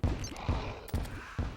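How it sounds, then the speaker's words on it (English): Several dull, muffled explosion thumps from the video game Terraria, about four bursts spaced roughly half a second apart at moderate volume, with no talking. "this thing's gonna explode"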